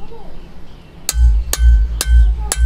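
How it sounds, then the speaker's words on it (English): Four loud, ringing metallic hammer strikes peening a scythe blade, spaced about half a second apart, each sharp clang leaving a bright ringing tail. "you just strike with a hammer in the same place the whole time"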